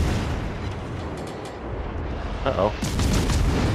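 A heavy, rumbling explosion as an enemy battleship is destroyed in the naval game World of Warships Legends, played from the cruiser Worcester, swelling over a continuous low roar of battle, with a brief voiced exclamation just before it.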